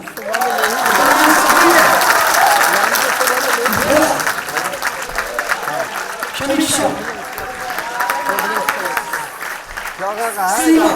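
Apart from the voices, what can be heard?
audience applause for drama cast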